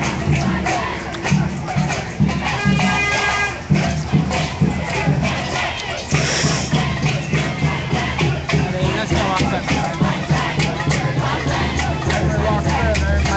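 A large crowd of protesters facing police in Ferguson in 2014 roars and shouts continuously, with dense overlapping voices close by and loud for the whole stretch.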